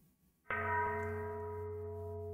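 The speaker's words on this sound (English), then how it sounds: "The bell's coming from here," A single bell strikes in an indie horror game set near a graveyard, a sharp metallic hit followed by a long steady ringing hum that slowly fades, heard alone over quiet ambience.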